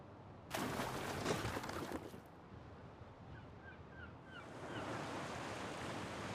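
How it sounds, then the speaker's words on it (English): Ocean surf rolls and washes steadily as a ship sails through the waves in the Roman city-building game Anno 117, a louder burst of spray early on, then a lighter breaking wash with faint bird calls. "Through the waves!"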